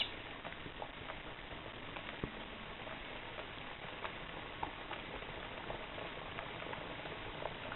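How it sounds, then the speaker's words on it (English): Potato chips gently boiling in a pot of water, a faint, steady bubbling patter with small irregular pops and no talk. "Gently boil the chips for 10 minutes"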